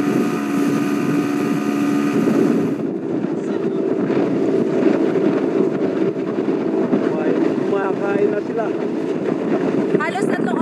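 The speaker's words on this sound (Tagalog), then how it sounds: "Dahil sa laki ng mga alon, mas bumagal pa ang takbo ng Jungkon." A motorized outrigger boat, a jungkong, pounds slowly through big waves after rain sets in, its engine drone steady and near beneath wind and water noise, with people talking over it throughout.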